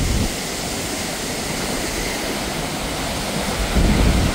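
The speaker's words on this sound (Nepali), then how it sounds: "पानी झरेको" Continuous broadband roar of water falling at a waterfall in Rotorua, loud and close, a dense steady rush swelling slightly toward the end, with no voices.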